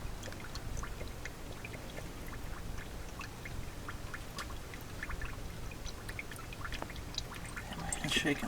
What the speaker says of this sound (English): we're gonna go ahead and fill it up with the new oil, the Napa 5W30 full synthetic